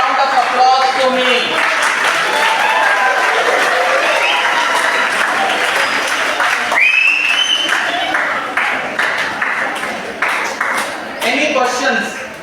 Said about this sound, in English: A big round of applause to me.